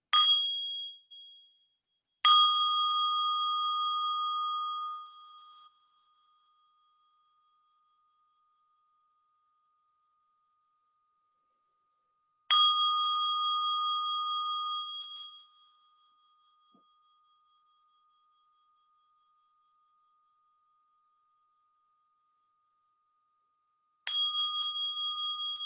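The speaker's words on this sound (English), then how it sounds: "So listen to the sounds of the bell and bring yourself back to this present moment." A meditation bell rings three times with long pauses between strikes, each clear metallic tone ringing on and slowly fading into silence.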